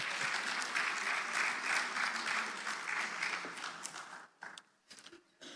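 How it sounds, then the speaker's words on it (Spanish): An audience applauds during a church emotional-wellness workshop, with dense steady clapping that thins out into scattered final claps near the end. "Dale un aplauso al Señor."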